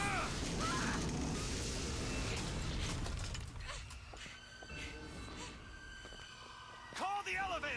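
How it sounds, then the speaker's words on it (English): An enraged giant mechanical bird creature in Bioshock Infinite lets out creaking, grinding mechanical screeches amid loud game noise, with voices talking over it. "Hurry! It's a pissed off bird."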